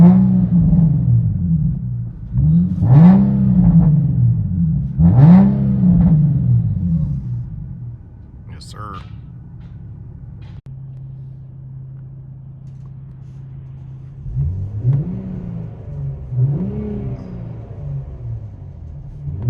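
An Infiniti G-series car engine, heard from inside the cabin, revs up in several rising, throaty bursts, settles to a low idle drone, then revs twice more, loud and close with no talking.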